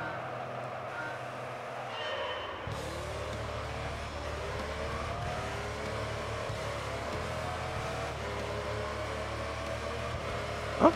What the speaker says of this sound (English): Damn, this car sounds wild.